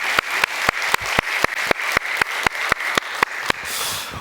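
A church congregation at a Children's Sunday worship service claps in a steady, rhythmic beat, loud and close, with no talking over it.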